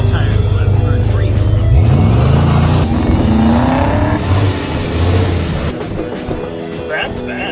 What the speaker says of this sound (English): We can have a little tire slip for a treat.